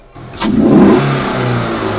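A 4.0-litre W8 engine in a Volkswagen Passat, fitted with a sport cone air filter, revs up sharply, swells into a loud, close roar, then settles into a steady throaty hum.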